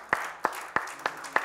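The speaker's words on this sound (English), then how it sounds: "give the Lord a hand clap this morning" Congregation in a church service clapping together in a steady rhythm, five sharp claps about a third of a second apart, close and moderately loud with no talking.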